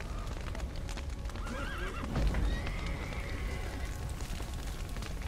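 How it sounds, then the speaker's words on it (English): Horses in The Witcher 3: Wild Hunt give a couple of high, wavering whinnies over a background of clip-clopping hooves and rumbling game ambience, fairly distant and mixed into the scene with no clear talk. "Oh, the damn horses."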